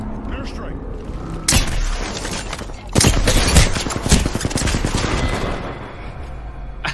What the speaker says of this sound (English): Signaling an airstrike. Airstrike.